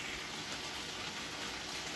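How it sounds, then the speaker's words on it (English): Sauce poured into a cooking pan over cooked meat, a steady, full liquid gush that runs evenly and close-up for the whole moment, with no voices. "I'm gonna pour the sauce in"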